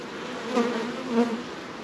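Honeybees hum around an opened home beehive, a close, steady buzzing drone that swells gently twice as individual bees pass near, with no voices.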